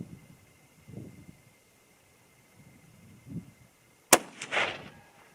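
A single sharp .308 Winchester rifle shot, loaded with a 125-grain Nosler bullet over Varget powder, cracks out near the end after quiet stretches of faint low rumbling, followed by a short ringing echo.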